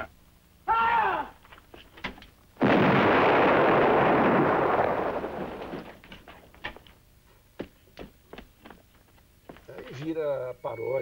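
A heavy cannon in a film scene booms once with a long roaring blast that slowly decays, after a brief sharp report, with dialogue spoken before and after.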